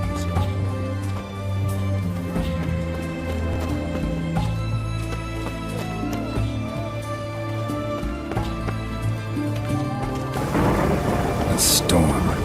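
A thunderstorm with rain in The Witcher 3: continuous rain and low rumbling thunder under layered game music and ambience, with the hiss of rain swelling louder toward the end.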